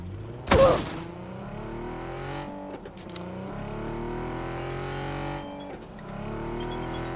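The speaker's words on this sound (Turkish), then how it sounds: "Bizi çarpacak araba." A car in the video game PUBG drives and revs continuously, its engine note rising and falling through gear shifts, loud and close, with a thump near the start.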